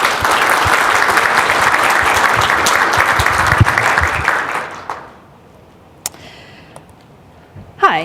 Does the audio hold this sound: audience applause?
yes